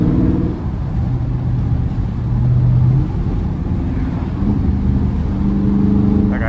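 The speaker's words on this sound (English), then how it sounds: "Like, I know here, y'all hear the downshifts." A Dodge Charger Scat Pack with the 392 engine drifting, a loud, continuous, close rumble that shifts in pitch through downshifts, with some background voice.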